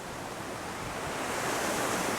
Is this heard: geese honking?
no